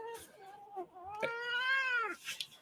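A domestic cat gives a long, drawn-out meow with rising and falling pitch, loud and close, broken by short pauses and ending with a brief rustle.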